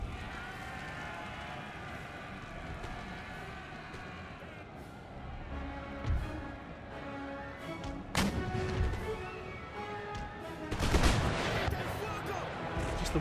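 Gunfire in the Empire Total War video game, scattered musket and cannon shots over a low battlefield din, several louder cracks and booms growing sharper toward the end.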